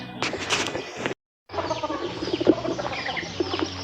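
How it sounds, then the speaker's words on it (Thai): Chickens cluck loudly and close in a rural yard, a busy overlapping flock broken by a brief silent gap. "เสียงไก่ดังสนั่น"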